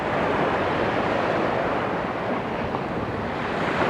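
Steady sea breeze and breaking surf wash over a beach at Rayong on the Thai coast, a constant loud roar of wind and waves with no voices.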